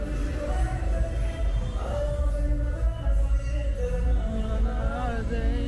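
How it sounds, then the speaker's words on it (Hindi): Evening music drifts through Tito's Lane at Baga Beach, Goa, with steady tonal melody lines and a thumping low end, loud and continuous over the bustle of a busy nightlife street. "आपको म्यूजिक सुनाई दे रहा होगा और यहां पर शाम होती है ऐसा म्यूजिक स्टार्ट हो जाता"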